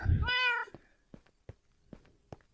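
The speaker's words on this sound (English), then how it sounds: "There's a cat" A pet cat in Minecraft gives one clear, drawn-out meow up close, followed by a few soft, sparse clicks and taps in a quiet game scene.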